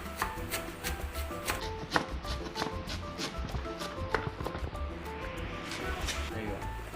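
A knife slices ingredients finely on a board, quick rapid cuts in a close rhythmic patter with a voice talking over parts of it.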